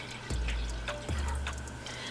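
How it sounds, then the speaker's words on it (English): 700 ml of water pours into a cooking pan in a home kitchen, giving a steady close trickle and splash with a few brief gurgles over low background hiss. "I'm going to put 700 ml of water. So we're going to put that into our pan."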